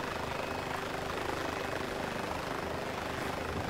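A video game helicopter drones on steadily throughout, a dense, unbroken rotor roar at constant loudness with no voices over it.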